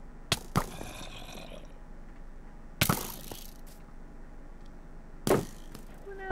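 Three sharp arrow impacts spaced about two and a half seconds apart as a Minecraft-style One Block Challenge player is shot at during the night, each a crisp thwack with a short ring, over quiet game ambience.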